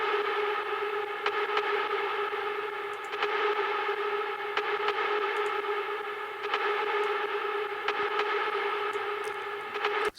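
A wide, unprocessed Nexus synthesizer pad preset used in hard trance production holds a steady, bright, harmonically rich chord for about ten seconds, sounding loud and even with no talking.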